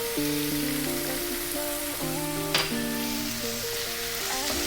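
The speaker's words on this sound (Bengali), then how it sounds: "এটা লো ফ্লেমে ভালো করে কষিয়ে নেবো যাতে মশলার গন্ধটা বেরিয়ে যায়" Ground turmeric, Kashmiri chilli, coriander and cumin sizzle and fry steadily over a low flame for katla fish curry, a continuous close hiss with no talk.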